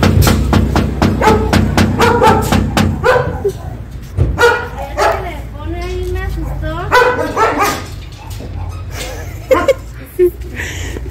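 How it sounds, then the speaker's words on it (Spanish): A dog behind a grate barks and yips a few times nearby while people talk over it in Spanish. "Ahí está un perro, miren."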